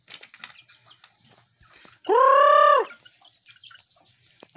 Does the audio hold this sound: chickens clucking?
yes